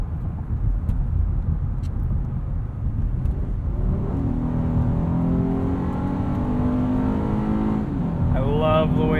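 2020 Acura MDX AWD Advance Package with a 3.5 V6 accelerating hard from inside the cabin, a low rumble rising into a loud, climbing engine wail as VTEC engages, then shifting.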